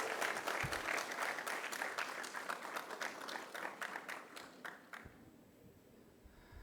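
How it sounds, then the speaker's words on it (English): A crowd at a college event gives a sustained round of clapping that gradually thins out and fades near the end, with individual claps audible as it tapers. "Give a big round of applause."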